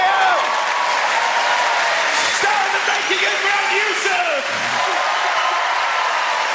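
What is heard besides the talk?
audience applause for the performers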